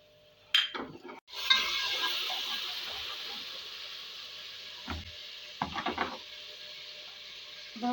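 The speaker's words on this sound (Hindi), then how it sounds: "अब हम ये नमक शामिल करेंगे और साथ ही ये ज़ीरा डाल देंगे ताकि ज़ीरा भी हमारा भून जाए।" Salt and cumin seeds go into hot oil in a pan for Afghani vegetable palao, setting off a steady close sizzle that slowly fades, broken by a few spoon clinks and stirring scrapes.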